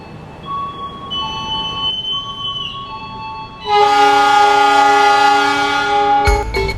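Taksaka passenger train departing Cirebon station in Indonesia: a loud, sustained multi-tone horn blast follows fainter earlier horn tones, ending in a sharp clatter up close.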